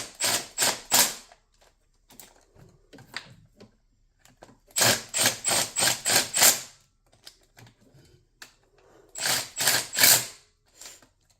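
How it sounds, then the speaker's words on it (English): A 10mm ratchet clicks in rapid bursts while re-torquing bolts on a Jaguar supercharger, with three close, loud clusters of ratcheting separated by quieter handling noises. "I'm going to pop a 10mm on here and put them in for good. So, then I'm going to re-torque."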